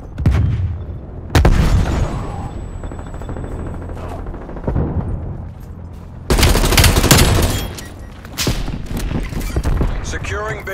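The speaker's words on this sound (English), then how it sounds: "Grenade out." Grenade blast and rapid gunfire in a Call of Duty: Black Ops Cold War multiplayer match, with loud sudden booms, a sustained burst of automatic fire and sharp follow-up shots amid game voice callouts.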